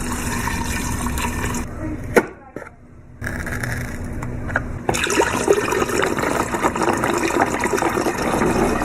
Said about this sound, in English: This isn't pouring fast enough.